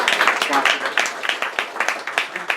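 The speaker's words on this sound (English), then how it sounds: "One more round of applause for the valet parking." A crowd applauds at a bed and breakfast gathering, with dense, steady clapping close by that fades slightly toward the end.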